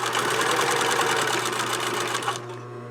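A sewing machine stitches the collar edge of a blouse in a fast, steady mechanical whir with a rapid needle chatter, close and even, stopping abruptly near the end.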